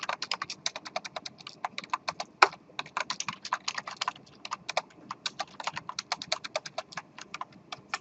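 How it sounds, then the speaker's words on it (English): Fast, uneven typing on a computer keyboard during a C++ programming lesson, a dense run of close, crisp clicks that carries on steadily through the whole stretch with no talk over it. "My typing has gotten worse."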